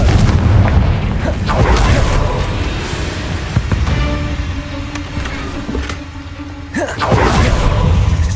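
A Confringo fire spell in the wizarding game Hogwarts Legacy goes off with heavy booming blasts and rumbling impacts amid a dense, loud battle soundscape, the explosions landing in a few separate hits.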